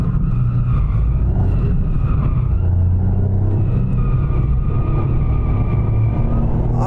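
A Toyota GR Yaris rally car on tarmac suspension drives on a paved road, a loud, close, continuous engine rumble with road noise and slight shifts in revs.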